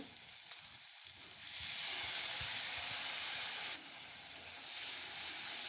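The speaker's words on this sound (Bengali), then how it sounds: "এবারে খুব ভালোভাবে কষিয়ে নেব" Ground spice paste with a little water sizzles and hisses loudly in a pan for a Bengali koi fish and cauliflower curry, the fry surging after a quiet start and staying strong with brief stirring sounds.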